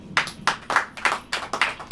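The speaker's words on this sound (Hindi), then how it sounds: "ताली बजाओ।" Hands clap in a slow, even rhythm of about eight sharp, distinct beats at a church sermon, close and fairly loud, with brief silences between each clap.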